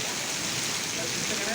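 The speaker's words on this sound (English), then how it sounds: "the rain was expected, but not such kind of the heavy rain" Heavy summer rain pours down in a steady, dense, broadband hiss that stays at an even loudness throughout, with no distinct drops or thunder standing out.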